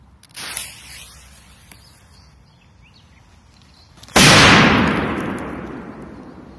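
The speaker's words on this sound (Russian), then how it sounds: "теперь петарда К-1000 еще раз" A K-1000 firecracker detonates with one loud, sharp blast that rings out and slowly decays outdoors, preceded by a smaller pop.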